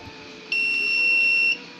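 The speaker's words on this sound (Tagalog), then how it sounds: "Pero pag ginawa mo siyang manual, ganito yung beep." A water consumption monitor being switched to manual mode gives a single steady electronic beep lasting about a second, clear and close, over a low background hum.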